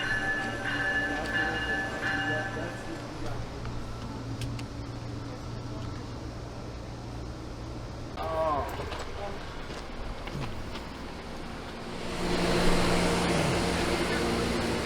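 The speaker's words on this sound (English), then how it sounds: "Okay, so I am on a train from Denver to Ohio with a stop in Chicago." Interior of a cross-country passenger train out of Denver bound for Chicago: a steady low rumble and hum of the moving railcar runs throughout, with brief clanks and a faint wheel squeal, while a voice talks over it.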